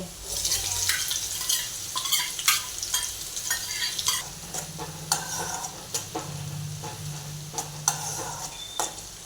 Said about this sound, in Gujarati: ડુંગળીને આપણે એક મિનિટ સુધી સાંતળવા દેવાની છે